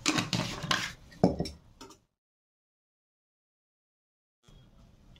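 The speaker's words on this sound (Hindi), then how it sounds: "एक चम्मच गरम मसाला डाल देंगे" A spoon clinks against a cooking pan as garam masala is added for cauliflower kofta curry, a cluster of bright metallic taps over about two seconds, then silence and faint background noise.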